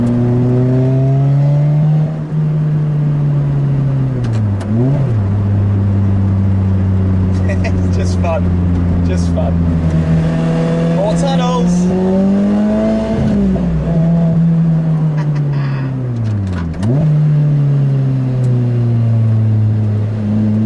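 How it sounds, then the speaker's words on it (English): A sports car engine revs up and shifts through gears repeatedly, rising and dropping in pitch, loud and close, with people talking briefly over it. "It is just a little race car for the road."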